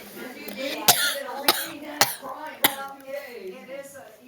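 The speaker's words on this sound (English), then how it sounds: "A cough." Four sharp coughs ring out at roughly even intervals, close and loud, with a person's voice speaking around and between them.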